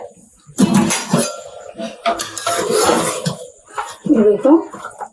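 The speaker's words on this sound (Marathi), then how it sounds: "आपण फोडणीला टाकलेलं मटण एकदा हलवून घेऊया." Metal clatter of a utensil scraping and stirring mutton frying in tempering inside a cooking pot, in uneven bursts with brief pauses.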